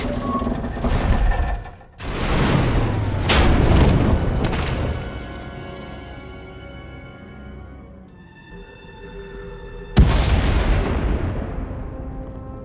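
Heavy explosions in the video game Star Wars: The Old Republic boom one after another, loud and rumbling, collapsing a tunnel, with a sharp new blast near the end over a continuous low roar.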